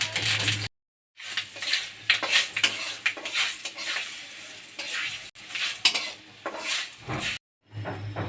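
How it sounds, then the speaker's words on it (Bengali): Two bay leaves and whole five-spice (panch phoron) fry in hot mustard oil in a kadai for raw mango chutney, a close sizzle broken by scraping stirs and clinks of a utensil against the pan, with brief silent gaps. "তেল গরম হয়েছে দেবো দুটো তেজপাতা আর দেবো গোটা পাঁচফোড়ন"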